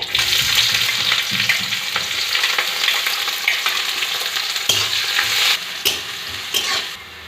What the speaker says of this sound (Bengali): তারপর দিয়ে দেবো পেঁয়াজ কুচি।